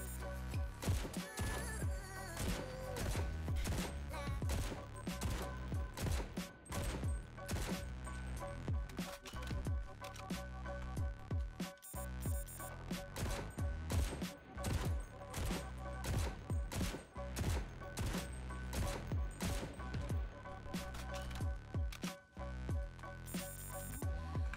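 Rifle gunfire in the video game CRSED F.O.A.D rattles continuously for over twenty seconds, dense rapid shots close and loud with brief pauses between bursts.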